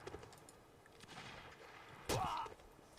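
A single musket shot cracks out in Napoleonic Wars, a sharp close report with a brief ringing tail, following a stretch of distant battle rumble and scattered fire.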